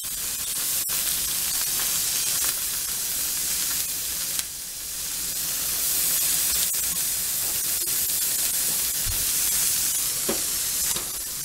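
Food sizzling steadily in a pan on a stovetop burner, seasoned with chipotle and roasted garlic, a continuous close hiss and crackle with a few small clicks and no voices.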